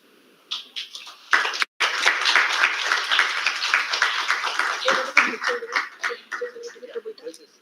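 Applause for a best paper award winner at an academic conference valedictory session, a sustained crowd clapping that swells after a brief pause and tapers, with talk and murmuring over the tail end.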